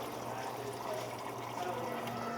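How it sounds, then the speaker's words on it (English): Water poured and measured out into a bowl for a large batch of buckwheat sourdough dough at a bakery, a steady broadband pouring rush running without a break, moderately loud and close, with no talk over it. "So I'm just starting off pouring, measuring out my water."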